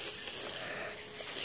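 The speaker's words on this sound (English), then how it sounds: "Don't spray it in my hair." A steady, breathy hiss of spray runs the whole time at moderate loudness, with no talking over it.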